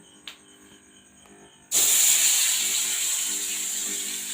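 Boiled eggs coated with salt and turmeric dropped into hot oil, a few faint clicks and then a sudden loud, sustained sizzling hiss that slowly eases.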